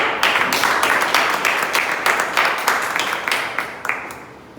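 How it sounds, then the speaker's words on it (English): A meeting audience at a Toastmasters club gives the Toastmaster of the day a round of applause, with many hands clapping in a dense, steady patter that slowly thins toward the end. "a very big round of applause to the Toastmaster of the day today, Toastmaster Anu"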